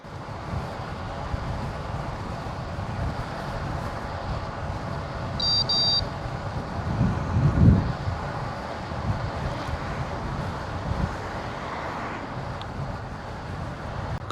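Steady roaring wind rushes past a cyclist riding into a headwind on an open road loop, filling the sound with broadband gusting noise and a brief swell midway.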